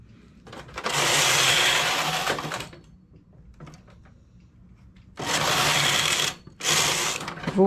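A knitting machine works rows of a sleeved vest in three long mechanical bursts, the carriage sweeping across with a steady whirring rattle. Brief pauses fall between the bursts, and faint handling noises fill the gaps.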